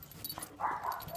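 A dog whimpers and lets out a few high yips, anxious with a cat nearby; the cries are close and moderately loud, short and uneven.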